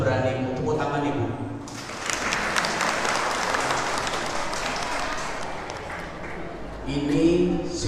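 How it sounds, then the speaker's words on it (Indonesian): An audience at a mosque Maulid Nabi gathering breaks into applause for a young child, a burst of many hands clapping that swells and fades, with a voice speaking before and after. "Tepuk tangan ibu."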